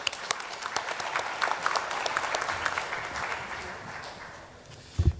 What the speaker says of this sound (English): Let's give a big round of applause for CA Mithilesh.